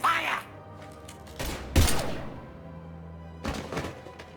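Gunfire sounds during a firefight in the video game Mass Effect 3 Legendary Edition. A few loud, punchy bursts of shots and thuds come in separate clusters, with a short bit of game dialogue between them.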